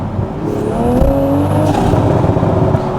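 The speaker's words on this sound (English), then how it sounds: "There you go, so you can hear the overrun." Toyota GR Supra with a titanium exhaust on overrun in second gear while driving at night, a loud rising engine whine and turbo whoosh easing off into crackling exhaust burble over road noise.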